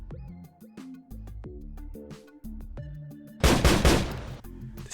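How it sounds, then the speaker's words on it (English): Gunfire in a Necromunda tabletop battle report set in the Underhive: a loud burst of crackling shots erupts near the end, following a few seconds of plucked, twangy background music. "this Ripperjack up on the wall takes a warning shot. Some more cold shells ringing off the Underhive floor."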